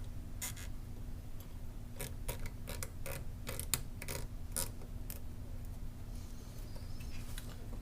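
Cable tie wraps are cinched tight on an outdoor fiber distribution closure, giving quiet, quick ratcheting clicks in short irregular bursts over a faint steady hum.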